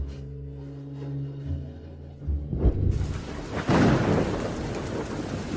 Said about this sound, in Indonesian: Hujan terlalu besar.